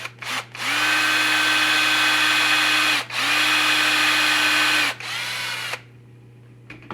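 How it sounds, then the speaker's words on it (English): A power drill whines steadily in two long bursts with a brief stop between them, then winds down, close and loud, drilling a shallow hole in a quarter-scale figure. "I'm just going to drill a hole back here, not too deep."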